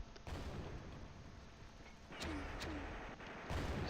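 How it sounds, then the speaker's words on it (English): Machine gun fire and explosions from the World War II strategy game Close Combat, scattered bursts and booms over a low battlefield rumble, fairly faint and distant. "So the machine gun team is putting down some effective fire by the looks of it."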